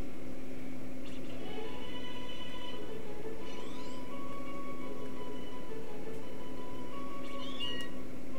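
A cat meows in the Pokemon Let's Go Eevee video game, repeated short tonal calls over steady game background music, with no talking.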